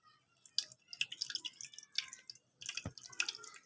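Jaggery sharbat pressed and strained through a sieve, giving irregular close drips and small liquid splashes in quick clusters with brief gaps, plus one sharper thud near the end.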